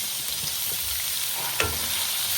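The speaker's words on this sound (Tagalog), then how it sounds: "Ilagay na natin ang ating pork." Pork sizzles loudly in a pan with garlic and onion, a dense continuous frying hiss with a brief utensil knock near the end.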